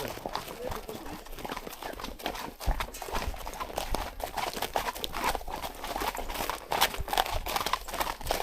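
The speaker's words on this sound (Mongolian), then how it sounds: "Сайхан өндөр морь байна." Hooves of a tall horse clip-clop steadily at a walk in Hemu village in Xinjiang's Altai region, close and fairly loud throughout, with faint voices in the background.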